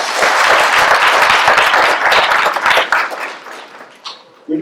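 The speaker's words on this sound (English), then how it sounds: "Let's give one more round of applause to Ms. Gilmore and our students." An audience at a college of education pinning ceremony applauds loudly, dense clapping that holds steady for several seconds and then thins out and fades near the end.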